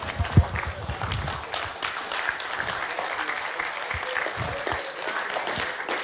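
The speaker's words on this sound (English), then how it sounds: "This is Gomolo clapping." Audience at an awards event claps in a continuous, busy patter, moderately loud and close, with a few sharper individual claps near the start and a murmur of voices beneath.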